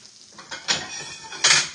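A plate lifted from a stack of dishes, giving a couple of short ceramic clinks and clatters close by, the second one louder.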